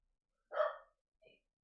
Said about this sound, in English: Dog barking in the house today.